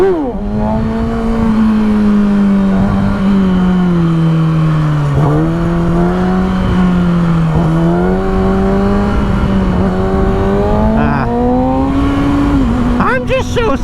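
Kawasaki ZX6R sport motorcycle engine holding a steady high drone while riding, pitch rising and dipping gently with throttle changes, loud and close throughout, with a brief higher rev near the end.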